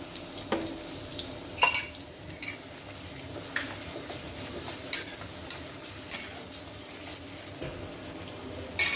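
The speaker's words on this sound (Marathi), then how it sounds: "यासाठी आपण खोबरं, लसूण, आलं आणि कोथिंबीर याचं वाटण केलं. ते त्याला परतून घेऊ." Ground coconut, garlic, ginger and coriander paste sautéing with mutton, a low sizzle punctuated by several sharp spoon scrapes and knocks against the pot, close and with no one speaking.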